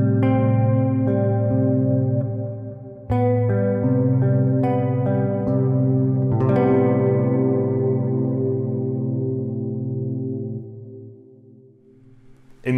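Electric guitar chords through a Neural DSP Quad Cortex ring out with lush reverb and echoing delay, sustaining and slowly fading, with a few fresh strums along the way.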